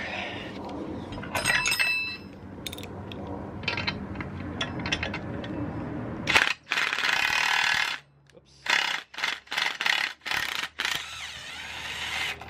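A power tool tightens the swing arm bearing on a Sur Ron Light Bee electric dirt bike, giving ratcheting, whirring mechanical bursts that stop and start, with short rapid pulses toward the end.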